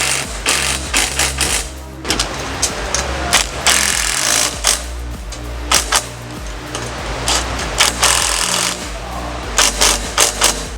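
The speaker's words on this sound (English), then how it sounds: "Now all we need to do is secure the basket with bolts." Bolts on a golf cart storage basket are driven with a 13mm tool, giving rapid bursts of mechanical rattling and clattering that stop and start in short repeated runs, close and fairly loud.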